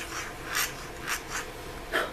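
A pointed calligraphy nib scratches across paper with iron gall ink, producing soft rhythmic strokes about every half second, close and quiet against a faint hiss.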